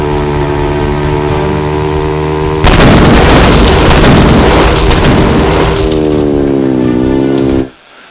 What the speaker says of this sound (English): that was the final mine explosion for this area